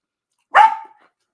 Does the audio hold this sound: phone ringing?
no